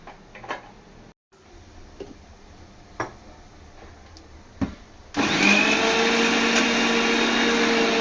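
Electric kitchen mixer grinding ginger-garlic paste, starting abruptly after a few faint ticks and running as a loud, steady whir close by until the end.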